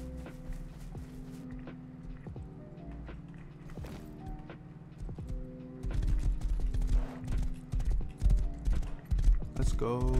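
Horse hooves clip-clop in a steady walking rhythm that quickens and grows louder, with music playing underneath and a brief whinny near the end, in the video game Rust.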